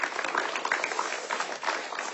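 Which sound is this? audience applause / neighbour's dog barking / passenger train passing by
audience applause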